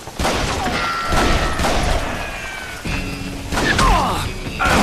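Gunfire in the Western shooter game Call of Juarez: Gunslinger, with bursts of loud, closely spaced shots and heavy thuds across the whole stretch, mixed with other game effects and music.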